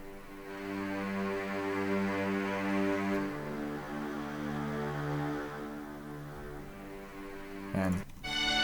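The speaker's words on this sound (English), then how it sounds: "Then I got my strings that happen here." Sustained orchestral string chords from the Miroslav Philharmonic sample library swell and shift in dense, layered harmonies, ending with a sharp accented attack near the close.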